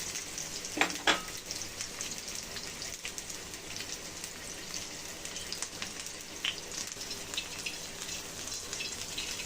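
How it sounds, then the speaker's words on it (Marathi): Onions frying in about a spoonful of oil in a pan for a cauliflower bhaji, a steady soft sizzle and crackle with a couple of sharper pops early on, fairly quiet and with no voices. "त्यामध्ये आपण कांदे फ्राय करून घेऊया"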